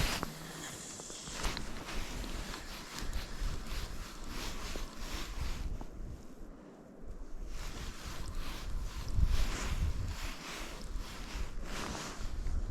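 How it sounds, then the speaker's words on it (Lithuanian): Strong wind blowing outdoors at a lakeside while fishing, a loud gusting rumble buffeting the microphone, rising and falling with a brief lull midway, alongside some splashing and handling noise. "Diena tai tokia, vėjas gan nemažas."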